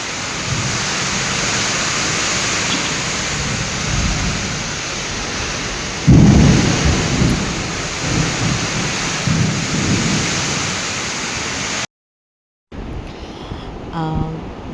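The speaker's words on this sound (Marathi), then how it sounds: "बाहेर केवढा पाऊस, वादळ सुटलेलं आहे" Heavy rain hisses steadily while a deep rumble of thunder rolls in around the middle; the sound briefly cuts out near the end.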